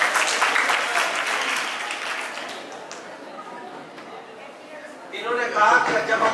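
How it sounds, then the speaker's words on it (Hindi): An audience applauds for a named participant, steady dense clapping that thins toward the middle and swells again near the end, with no one speaking over it. "जोरदार तालियां शुभम माइचुरी के लिए।"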